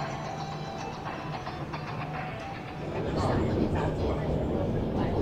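Shenzhen metro train running between stations, a steady loud rumble and rolling rail noise that swells louder partway through, with no one talking.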